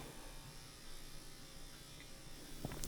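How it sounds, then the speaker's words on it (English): Wahl KM cordless dog clippers buzz in a steady, close electric drone while a dog is groomed, with a few light clicks and handling noises near the end. "Clippers I'm using are the Wall KM cordless"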